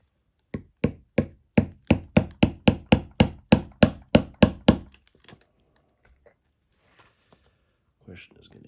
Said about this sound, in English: a little needle punch here that we're going to use this time